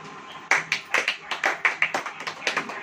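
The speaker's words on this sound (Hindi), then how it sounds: "ताली बजाओ" Several people in a church congregation clap together in an uneven burst of applause, close by and steady, with no talking.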